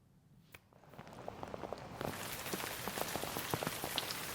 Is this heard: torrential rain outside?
yes